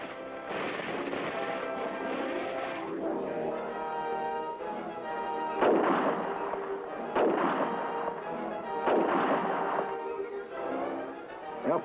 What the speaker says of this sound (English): the Chinese bring up their heavy weapons